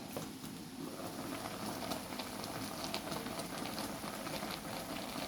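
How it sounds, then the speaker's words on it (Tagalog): Steady bubbling and gentle sizzling of paksiw made with Ilocano cane vinegar boiling in a pot, a continuous soft hiss heard up close with no voices. "Kumukulo na siya"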